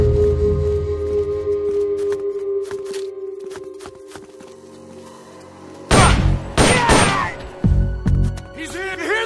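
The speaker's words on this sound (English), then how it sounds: "You hear that? Gunshots!" Gunfire in Metal Gear Solid Peace Walker on Xbox 360: bursts of sharp shots and impacts cluster in the second half, with game voices and effects throughout.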